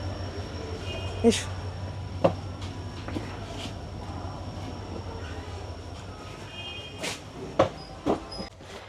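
The Vasco da Gama–Secunderabad Express 17040 stands at platform 2 of an Indian railway station, a low steady rumble broken by sharp metallic clanks and knocks, with a brief spoken word and nearby voices.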